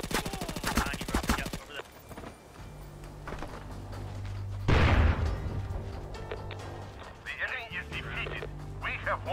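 Gunfire in the online shooter SOCOM Confrontation, with rapid automatic bursts at the start and then scattered single shots and a loud blast in the middle, while players talk over it throughout.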